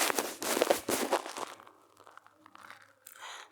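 Scissors cut out a paper sewing pattern for fitted shorts, giving close crisp crunching and crinkling paper sounds in quick bursts that fade into softer rustling.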